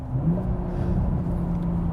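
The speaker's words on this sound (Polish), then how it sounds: "nawet jak bardzo szybko zmieniałem ten bieg na trzeci, to on sobie ładnie podniósł obroty silnika" A Toyota Supra Final Edition engine hums steadily from inside the car during a downshift to third, a close, even drone with a slight rise in revs.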